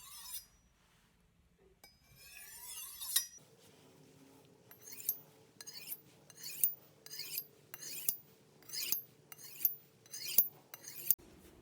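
A kitchen knife is drawn along a sharpening steel from heel to tip in about nine crisp, evenly spaced rasping strokes, quiet and close, over a faint low hum.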